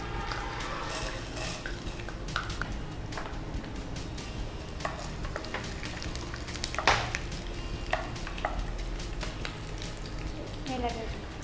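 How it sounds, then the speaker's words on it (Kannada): Chana dal crackles in hot oil as a tempering for chitranna in a home kitchen, a quiet, steady sizzle with spoon clinks and stirring, while people talk over it. "ಮನೆಯ ಅಡುಗೆ ಮನೆಯಲ್ಲಿ ಒಗ್ಗರಣೆ ಸದ್ದು"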